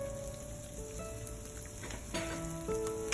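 Curry powder and ginger sizzling in a hot pot of oil for Jamaican curry chicken, a steady crackling fry with a stir and louder spits toward the end.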